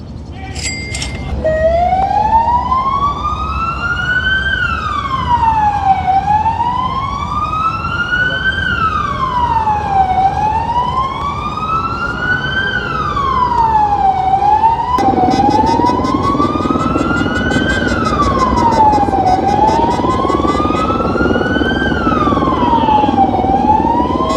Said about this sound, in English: I don't think I've ever heard that siren sound before.